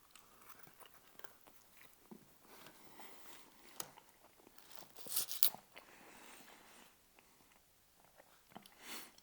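Loaded fries with bacon are eaten with a knife and fork, giving soft close chewing and biting with scattered crunches and clicks of cutlery, quiet overall and free of talk.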